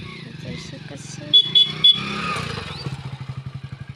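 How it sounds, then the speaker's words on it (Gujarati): A motorcycle engine idles just after starting, settling into a fast, even putter close by, with a few short horn-like beeps and people talking over it. "પપ્પા બાઇક ચાલુ કરશે"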